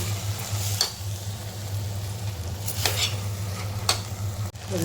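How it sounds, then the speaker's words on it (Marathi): Soaked rice stir-fried in a pressure cooker for moong dal khichdi, a steady low sizzle with a few sharp spatula scrapes against the metal, close-up and continuous without talk. "ते टाकलेले तांदूळ ते व्यवस्थित एकदा परतून घ्यायचे"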